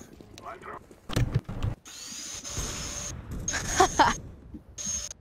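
A vacuum cleaner runs in short, loud bursts with a harsh, drill-like whine, cutting in and out amid other clatter during a CS:GO match on the Cache map, with players talking over it.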